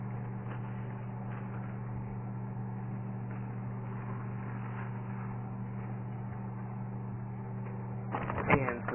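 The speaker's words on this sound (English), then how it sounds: "You put it in the microwave." Steady low electrical hum of a microwave oven running, constant and unbroken, with a brief clatter near the end.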